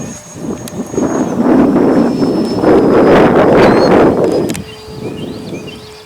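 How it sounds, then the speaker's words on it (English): Gusting wind buffets the microphone on an airfield, swelling into a loud roaring rush through the middle before easing back down. "Windier than a fort. Yeah, she's gusting."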